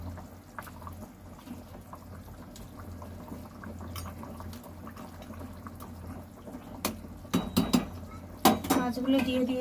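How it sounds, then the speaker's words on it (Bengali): Bhetki fish pieces added to a simmering curry in a pot: a low bubbling simmer at first, then several clanks of a utensil against the pot and soft splashes as the pieces go in near the end. "এবার মাছগুলো দিয়ে দেব।"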